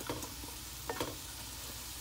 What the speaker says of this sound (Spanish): voy a freírlo así. Que esté bien frito